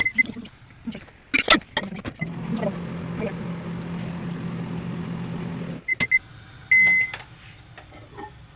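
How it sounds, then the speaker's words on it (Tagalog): Ginger and calamansi water boils in a pot, a soft, rolling bubbling rumble heard for several seconds between scattered clicks and knocks, with a few brief voice sounds around it. "Grabe yung kulo niya guys"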